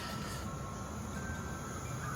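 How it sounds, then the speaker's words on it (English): Tram passing nearby on a street, a steady low rumble with faint high metallic whine throughout, moderately quiet, with no talking over it. "sorry about the tram"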